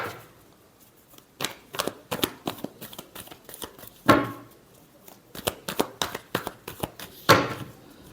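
Tarot cards being shuffled by hand, a series of quick riffling flutters and soft slaps in irregular bursts, close and fairly quiet, with no talk.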